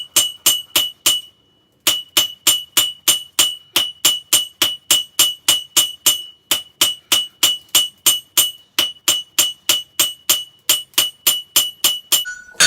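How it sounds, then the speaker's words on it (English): Hammer blows ring out on hot steel at the edge of an anvil during blacksmith forging of a rolled rose: a fast, steady train of about thirty sharp, bright metallic strikes, close and loud, with one short pause near the start. "Come to the edge of the anvil. We're going to actually half on, half off blows."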